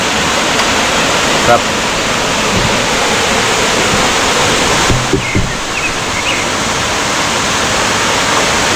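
Rushing, gurgling water at Ternate blue lagoon, a steady, loud roar of flowing stream that fills everything without pause, with a brief voice and faint knocks near the middle.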